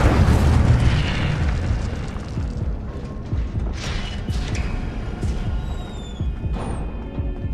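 A fire spell cast in a wizarding action game bursts out as a loud, broad whoosh and boom, followed by crackling flames and scattered magical pops and chimes over a busy, continuous game soundscape.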